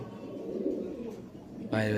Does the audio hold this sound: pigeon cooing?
yes